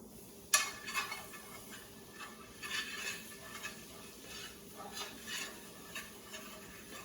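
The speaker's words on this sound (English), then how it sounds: "Do your flour to stir it in gradually" Flour is stirred into hot bacon grease for gravy, making a soft, steady scraping stir over a faint sizzle, opened by a single sharp clink of utensil on pan; no talking.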